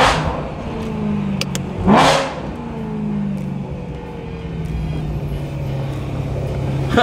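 BMW E92 M3 with a DCT gearbox pulls hard through first and second gear, a loud engine rising in pitch with a quick shift break and a brief whoosh, heard from inside the car.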